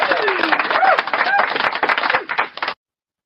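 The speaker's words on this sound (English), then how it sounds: "Let me give you a double applause" Applause and clapping from a studio audience for a guest, dense and loud for under three seconds, with whoops and voices mixed in before it cuts off.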